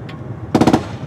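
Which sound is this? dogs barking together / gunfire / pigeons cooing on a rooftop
gunfire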